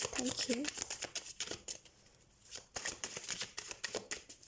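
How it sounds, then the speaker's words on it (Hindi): Tarot cards shuffled by hand for a weekly reading, a run of quick papery riffles and flicks repeating through the clip, with a few faint vocal sounds and a brief quieter pause midway. "तो सबसे पहले हम कार्ड शफल कर लेते हैं।"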